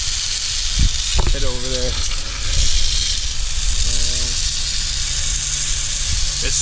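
Garden hose spraying water to strip Plasti Dip from a car, a steady loud hiss of spray running throughout, with short bursts of talk and a brief chirping sound over it.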